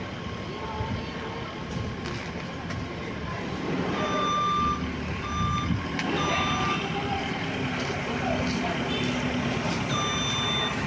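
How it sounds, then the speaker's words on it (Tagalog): A truck hauling demolition debris from a barangay hall teardown gives off repeated high reversing beeps at a steady rhythm over loud engine rumble and outdoor noise, with voices talking in the background. "Ay, yung truck nakaabang doon sa labas."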